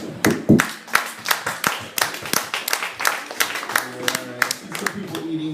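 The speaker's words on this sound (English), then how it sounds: "Clap your hands if you're a feminist." An audience at a live show claps its hands in a loose, steady run of sharp claps, mixed with a voice talking over it and fading toward the end.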